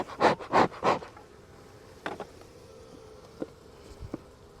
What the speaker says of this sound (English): Get these bees out of here.